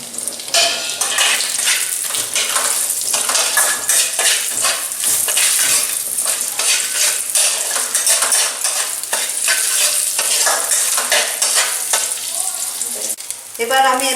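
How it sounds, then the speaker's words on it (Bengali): Bay leaf, green cardamom and cinnamon sizzling in hot ghee in a kadai, a loud continuous crackling fry with occasional clinks of a utensil against the pan. "ফোড়নের জন্য রাখা তেজপাতা, ছোটো এলাচ, দারচিনি দিলাম।"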